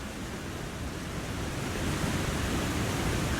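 Steady wind blowing in The Long Dark survival game, a dense, continuous roaring hiss that holds even throughout and swells slightly louder midway, with no voices.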